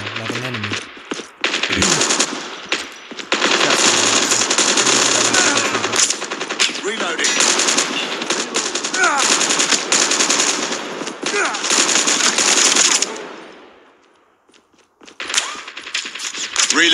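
Sustained automatic gunfire from a weapon in Call of Duty Mobile during an online match: loud, dense, rapid bursts running for many seconds, a brief pause, then more firing.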